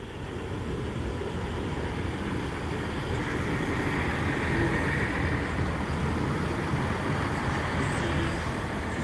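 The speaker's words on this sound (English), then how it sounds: "the train as it rolls into Gloucester Station" A steady, loud rumble of a train, numbered 165 134, rolling into Gloucester Station, with broad low mechanical noise and hiss holding constant throughout, no voices.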